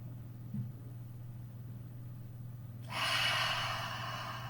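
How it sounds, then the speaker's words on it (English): A deep breath drawn in through the nose during a calm breathing exercise, a soft rushing inhale that starts partway through and carries on steadily to the end, close and alone over a low hum. "So breathe in for 4."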